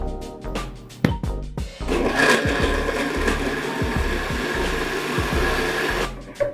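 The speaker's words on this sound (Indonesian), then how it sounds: "selanjutnya kita proses dengan blender hingga lembut." A blender purees steamed cassava with coconut water, starting with short pulsed bursts and then settling into a loud continuous whir before slowing back into brief pulses.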